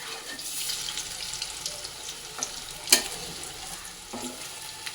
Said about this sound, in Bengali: এই কোপ্তাগুলো এবার লাল লাল করে ভেজে নেবো